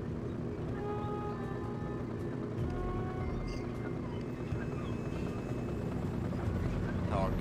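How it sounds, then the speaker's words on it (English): A helicopter in the Sly 3 video game, set in the Australian outback, produces a steady, loud rotor drone throughout, with faint game sounds layered over the constant roar. "Helicopter."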